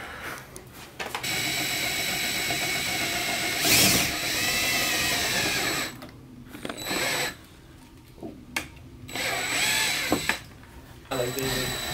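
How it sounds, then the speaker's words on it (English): A power drill bores a hole in the splash guard of a 2018 Ford Focus ST during a front splitter install, whining in long bursts with stops and restarts, close and loud, with brief pauses between. "there was no hole in the splash guard, so that's why we got to drill"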